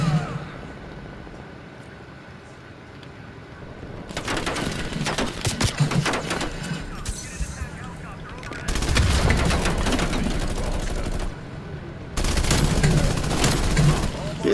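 Call of Duty Black Ops Cold War gunfire comes in three bursts of rapid automatic shots, separated by quieter stretches, with a player talking over the game sounds.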